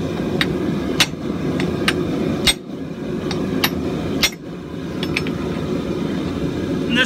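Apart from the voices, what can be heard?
hammer striking a flatter while forge welding hot steel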